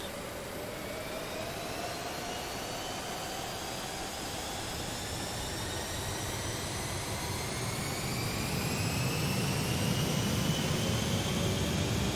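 DC-8 jet engines spooling up to takeoff power in the Prepar3D flight simulator, a loud steady roar with rising whines that swells further near the end, no speech.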